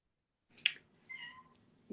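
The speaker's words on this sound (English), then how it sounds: "Is that a cat in the background?" Cat meowing in the background of an indoor conversation: one fairly faint, drawn-out meow, with a soft click and a brief sharper sound around it.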